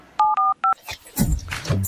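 A phone keypad being dialed: three short, clear DTMF tone bursts in quick succession, followed by talk and other indoor sounds.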